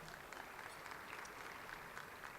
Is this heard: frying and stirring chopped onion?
no